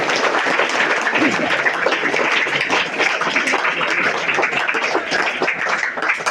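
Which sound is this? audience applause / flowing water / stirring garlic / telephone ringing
audience applause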